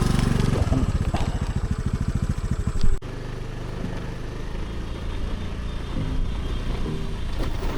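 A scooter's wheels spin in thick mud on a rough track as the engine pulses hard and close for a few seconds, then settles into a steady, straining drone.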